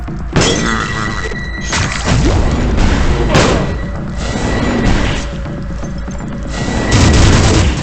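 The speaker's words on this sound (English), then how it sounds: "It shoots a ball of explosive energy, I think, exploding upon contact." A demonic missile launcher in a video game fires explosive energy balls, producing loud repeated booms and crashing blasts that overlap in a dense, continuous barrage.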